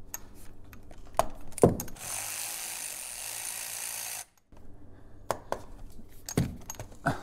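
Hand ratchet working axle bolts loose on a Jeep WJ with QuadraDrive: bursts of rapid metallic clicking in several close, loud runs, separated by a steady mechanical whir and a short silent gap.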